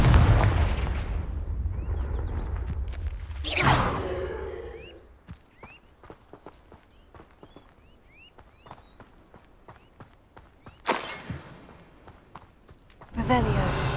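Fiery Confringo spell explosions in Hogwarts Legacy, loud booming blasts at the start and near the end, with lighter footsteps and clatter between and spell incantations spoken over the action.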